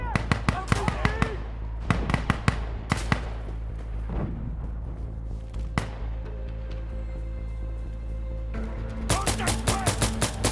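Gunfire in the video game Insurgency: Sandstorm, sharp bursts of shots and rapid volleys at the start and again at the end, with a quieter gap between and voices shouting over the fight.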